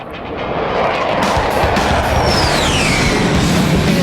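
Fixed-wing airplane on its takeoff roll from runway 13 at Texarkana, a loud, steady broadband engine roar that holds throughout, with a faint descending whine riding over it.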